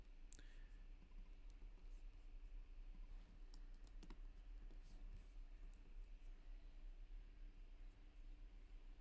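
Faint keyboard typing at a computer, scattered soft key clicks over a steady low hum, distant and quiet.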